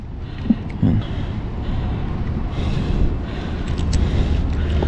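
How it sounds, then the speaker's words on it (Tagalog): Strong wind blows across open sea at a fishing spot, a steady broadband rush and buffeting against the microphone, with faint knocks and bumps underneath and no clear speech. "Mahangin dito sa dagat."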